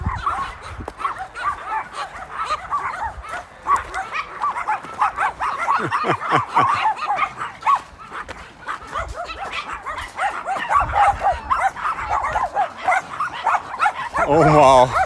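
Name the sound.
dogs barking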